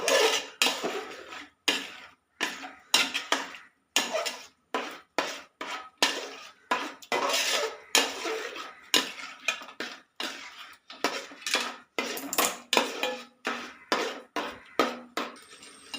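A spoon scrapes and knocks repeatedly against a pot of chickpea payasam thickening with jaggery, in irregular bursts of metallic clatter with short pauses between strokes, close and without voices.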